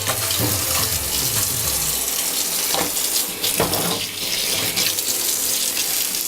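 Tap water runs hard into a sink while animal innards are rinsed, a loud continuous splashing gush with brief surges and dips as the pieces are moved under the stream, no talking.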